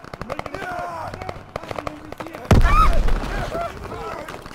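Scattered gunshots and a loud burst of fire from a Call of Duty WWII campaign battle, popping intermittently then erupting in a heavy volley midway, heard under and between people talking.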